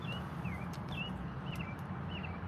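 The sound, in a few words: birds singing outdoors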